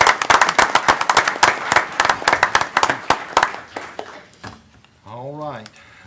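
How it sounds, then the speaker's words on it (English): An audience at a county commissioners' meeting claps for the sheriff with loud, irregular individual claps. The clapping tapers off after about four seconds, and a single tonal voice-like sound rises briefly at the end. "I'm gonna clap for him again."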